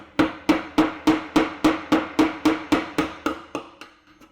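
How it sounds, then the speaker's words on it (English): A hammer strikes a Phillips screwdriver to mark two holes for a metal bracket, about a dozen sharp, evenly spaced taps in a steady rhythm that softens toward the end. "Hammer in the 2 dots that we made."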